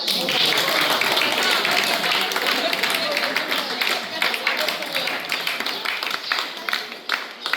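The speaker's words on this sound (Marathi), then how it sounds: "सगळ्यांनी छान टाळ्या बनवूया" Audience applause at a golden wedding anniversary celebration, steady dense clapping from many hands filling the whole stretch, loud and close with crowd murmur mixed in.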